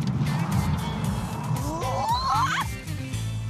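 A car doing handbrake turns with its engine running loud and close, while its tires let out rising, wavering squeals as it slides through the turn, and a voice is heard faintly in the background.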